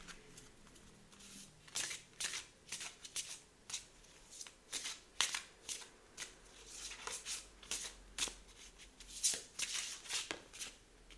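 Oracle cards being shuffled by hand, a steady run of soft riffles and slaps repeating roughly every half second, close and quiet, with no talking.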